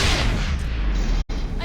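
Grenade blast and gunfire in the Mass Effect video game, a loud dense barrage of booming explosions and shots filling the whole stretch, with a brief sharp cutout near the end.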